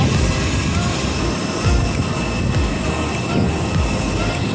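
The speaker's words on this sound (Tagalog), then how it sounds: "Yan ang ating aeroplano." An airplane waits at a regional airport during a return flight to Manila, filling the air with a steady, loud engine roar and broad rumble that holds without a break.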